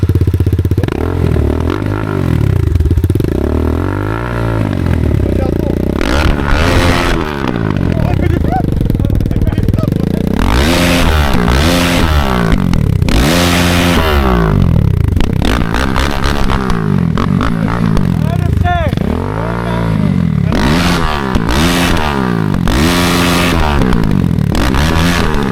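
A 300cc motorcycle engine revs repeatedly under throttle, with loud, close bursts rising and falling in rapid succession and mechanical clatter between them, while people talk over it.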